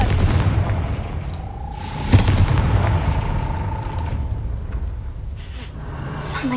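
A Confringo blasting spell explodes in Hogwarts Legacy, a sharp loud boom near the middle followed by a rumbling decay and low background ambience.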